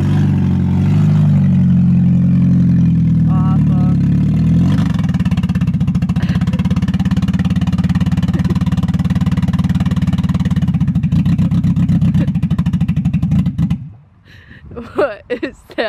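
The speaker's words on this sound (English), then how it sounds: "it's misfiring pretty nice" A custom car engine revs loud and close, roaring steadily with a rough, stumbling misfire before it cuts off abruptly; people talk over and after it.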